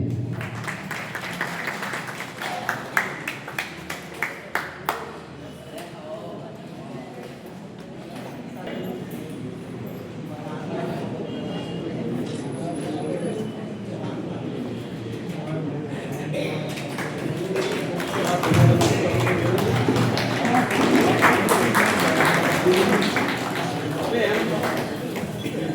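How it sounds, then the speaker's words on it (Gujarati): An audience welcoming the chief guest at a ceremony with applause: steady clapping from a crowd that swells and keeps going, mixed with a speaker's voice. "તાળીઓથી વધાવીએ."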